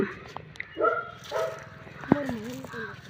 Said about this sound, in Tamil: நாய் சத்தம் போடுதே